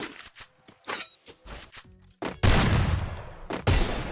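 Shotgun fire in a video game played on a BlueStacks app player: quieter clicks and shuffles give way to two loud, close blasts with a sustained rumbling tail, and no talking.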